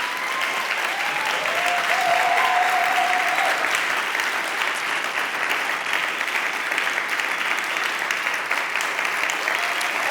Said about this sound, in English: stand up, clap your hands, stamp your feet,